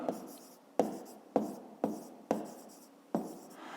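Pen or pencil strokes on paper while working a fifth-grade maths exercise, six sharp taps each followed by a short scratchy trail, close and fairly quiet, with no talking.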